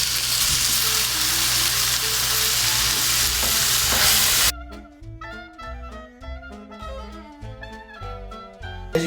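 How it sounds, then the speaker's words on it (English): About two pounds of ground beef sizzle and fry in a pan for the first half, a dense steady hiss, before the sizzling cuts out and a plucky music track takes over alone. "So we're browning up our beef."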